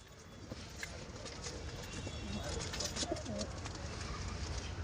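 Pigeons of the Kalshira and Laljira flying breeds cooing softly and repeatedly at close range, low throaty calls over a faint background hum.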